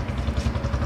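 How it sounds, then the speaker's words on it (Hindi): A motorcycle passes in the background for a brief moment, its low engine putter close and fairly loud. "सॉरी पीछे डिस्टर्बेंस आ गई थी एक और बाइक की"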